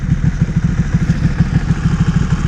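Ducati Panigale 1199R motorcycle engine running during a ride, a loud steady pulsing low thrum with rapid regular firing beats, close and continuous.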